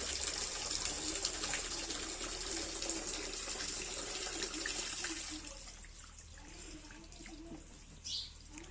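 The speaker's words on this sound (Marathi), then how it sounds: "नळ बंद कर ना" An outdoor tap runs steadily during a car wash, a close, continuous gush of water that eases off after about five seconds, leaving a quieter trickle and a brief splash near the end.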